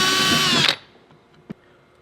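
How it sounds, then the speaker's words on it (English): A loud power drill whirs steadily for under a second, drilling holes in a plate, then cuts off, followed by quiet and a single short clunk. "let's go ahead and drill these holes out real quick"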